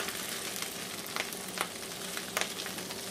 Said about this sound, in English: Just want to saute this for 2 or 3 minutes, maybe 4.